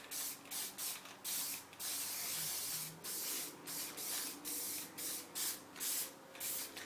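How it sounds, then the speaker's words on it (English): Bursts of spray paint hissing from a nearly empty can of blue paint onto wooden planks, a dozen or so short sputtering sprays in quick rhythm, close and fairly loud, with no talking. "So I'm going to take the same blue that I've been using my almost empty can here because I'm just spraying."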